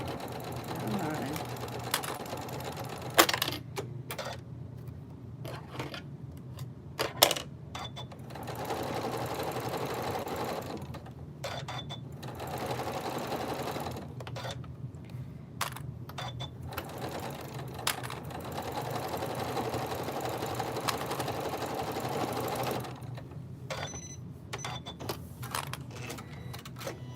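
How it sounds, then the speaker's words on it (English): A sewing machine stitches a fabric star in repeated whirring runs separated by pauses, with sharp clicks between runs and a person talking quietly in the background. "So we're going to sew this one down."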